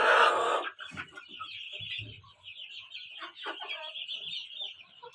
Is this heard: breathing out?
no